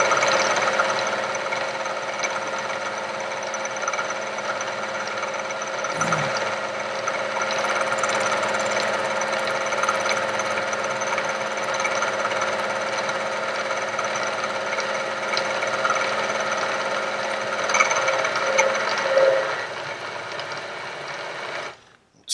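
A milling machine cuts metal to make a vice stop, a steady high-pitched whine and chatter running continuously at close range, with a brief knock partway through and a slight rise in cutting noise near the end before it stops.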